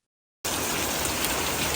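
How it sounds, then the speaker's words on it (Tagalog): Heavy rain pours steadily onto a house, a dense, constant hiss that starts abruptly and continues without a break, with no voices. "Walang tigil ang ulan."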